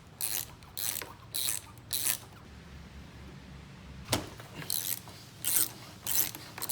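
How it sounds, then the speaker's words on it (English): An 8mm Allen wrench on the bar end sliders of a 2005 Yamaha R6 gives sharp ratcheting clicks in short separate bursts, close up with quiet gaps between them. "You remove those with an 8mm Allen wrench"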